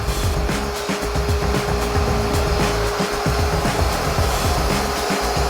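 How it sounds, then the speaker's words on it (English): A robot vacuum cleaner runs in vacuum-only mode, its motor whirring steadily at close range with a constant tone over rougher, uneven rattling and scraping as it picks up debris. "we're going to do vacuum only mode, and we're going to see how efficiently it can go and clean all this particular debris"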